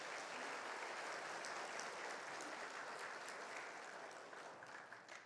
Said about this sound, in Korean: 박수 한번 해주실까요?